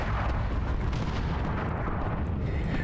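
Rocks crashing down and explosions rumbling in Warhammer 40K: Dawn of War 2 Retribution, a dense, continuous low-heavy barrage of booms and impacts that stays loud for the whole stretch, with no talking.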